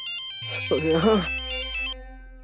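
A phone rings with an incoming call from the office, a melodic electronic ringtone repeating clearly indoors while someone speaks briefly over it.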